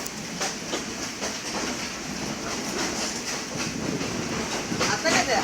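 Train passing close by, with rhythmic clickety-clack of wheels over rail joints and a loud rushing rumble that swells toward the end, while people talk over it.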